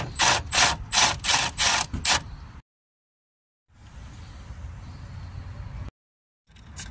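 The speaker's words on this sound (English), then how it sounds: "So just taking the two 10mm bolts out from there, just to remove this full panel and move it forward." A ratchet wrench backs out 10mm bolts from a panel on a Citroën C4 Grand Picasso, a run of about six rhythmic ratcheting clicks up close, then a pause and a longer stretch of softer rubbing and scraping.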